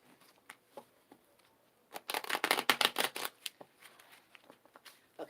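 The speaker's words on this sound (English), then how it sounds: "One more shuffle." A tarot deck riffled once in a quick, crisp burst of flicking, close by, with soft handling taps before and after.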